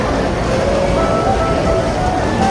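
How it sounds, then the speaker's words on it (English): Silver Dollar City theme park train rumbling steadily nearby, a continuous loud low roar with a faint tonal whine, no talk over it. "I think I heard the train."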